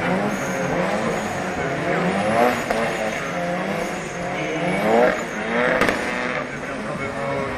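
A drift car at a street drifting event revs hard while its tires squeal and skid, the pitch rising and falling as the car slides sideways, with crowd noise in the background.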